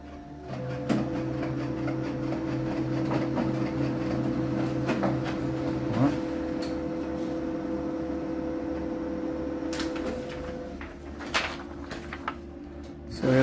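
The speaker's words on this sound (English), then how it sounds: "the sound says the printer is warming up" A Lenovo laptop-connected printer warming up: a steady mechanical hum with layered whirring tones runs throughout, broken by occasional clicks and clunks near the end; no one speaks.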